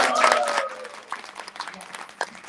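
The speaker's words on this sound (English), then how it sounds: "Give them a round of applause" An audience at a forum on gender and politics applauds, with a brief voice at the start giving way to a scattered round of clapping that tapers off over a couple of seconds.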